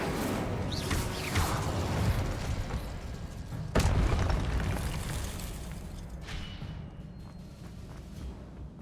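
Incendio fire spell cast in Hogwarts Legacy erupts as a sudden sharp burst that settles into a roaring, fading flame rumble, surrounded by other whooshing spell effects.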